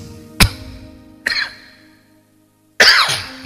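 Three separate coughs, close and loud, break up near-silence, the last one harsher and longer, with a throat-clearing quality.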